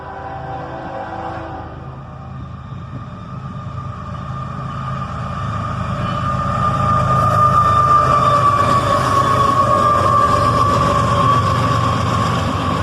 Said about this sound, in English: A southbound intermodal train, led by a pair of ES-44 ACHs.